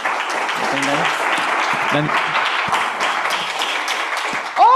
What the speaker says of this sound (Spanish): le pido un aplauso para la compañera Daniela